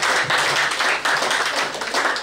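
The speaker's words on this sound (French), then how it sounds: "Ça, applaudissements." Scattered clapping from an audience at an accessories fashion show in Cotonou, a steady dense patter of hands filling the short stretch with no voices over it.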